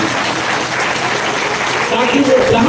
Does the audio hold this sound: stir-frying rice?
no